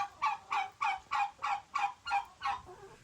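Farm turkeys in a bird yard gobbling in a steady run of about nine rapid, evenly spaced rattling calls, close and clear with no other voices.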